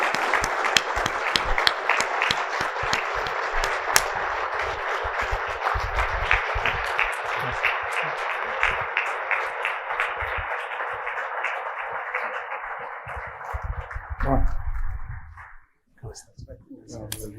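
At a mortgage-industry event, a crowd applauds a gentleman asked to stand, with vigorous, dense clapping that holds for about fifteen seconds before cutting off, followed by a few scattered sounds and brief talk.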